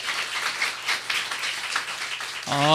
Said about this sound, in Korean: 이렇게 박수로 환영합시다